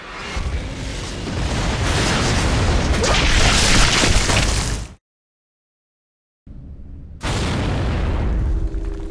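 Incoming artillery shells pound the ground in a war video game, a sustained barrage of loud booming explosions and rumbling debris, cut by a brief silence before more heavy blasts resume.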